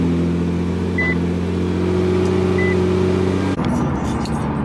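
A twin-turbo V6 Lamborghini engine, an R38 motor fitted with a Tommy intake, idles loudly and steadily up close with a deep, even drone, then shifts abruptly near the end as the engine note changes.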